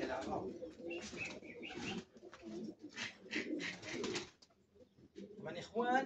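Pigeons from a loft coo intermittently at close range, soft throaty calls repeating under and between a man's speech.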